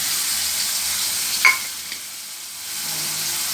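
Steady sizzle of onion paste frying in a pan, close and continuous, with a brief scrape of stirring near the middle.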